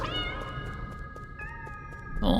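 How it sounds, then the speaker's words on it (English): Cats meowing in the game Nine Sols, a series of high, thin mews in short repeated bursts, fairly close and clear, with no talk over them. "Oh, those meows."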